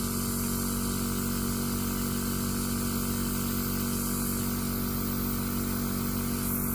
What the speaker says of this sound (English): I'm gonna spray this out.